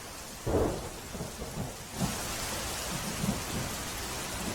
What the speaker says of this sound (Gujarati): શહેર અને ગ્રામ્ય વિસ્તારમાં ફરી વરસાદ શરૂ થયો છે